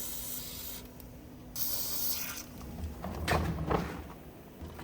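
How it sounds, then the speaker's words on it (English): Penetrating oil hisses from an aerosol can onto a Ford Super Duty wheel bearing in short bursts, with a broad breathy spray sound, close and moderately quiet, amid faint workshop rubbing. "Let's get a little bit of penetrant right here just to aid in our removal."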